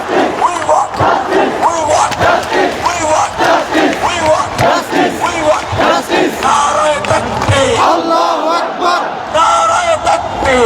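A huge protest crowd at Shahbag chants slogans loudly and continuously, a dense roar of many voices rising and falling in rhythmic calls, close and overwhelming throughout.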